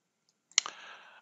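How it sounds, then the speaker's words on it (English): A single sharp click of a computer mouse used on a Dahua NVR's local monitor, close and crisp, followed by a faint short tail and otherwise silence. "I'm going to right mouse click on the screen."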